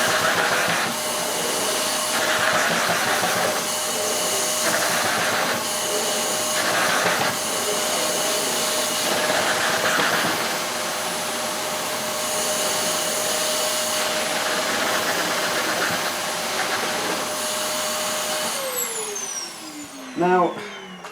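A Wellco CV16 vacuum cleaner roars steadily on carpet, its loud whining motor rising and falling as the nozzle is pushed back and forth, then winding down at the end, with a voice talking over it.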